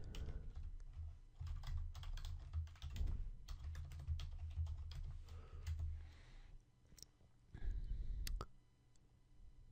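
Computer keyboard typed steadily while writing jQuery code, a dense run of close, quick key clicks in irregular bursts with brief pauses and a few heavier keystrokes near the end.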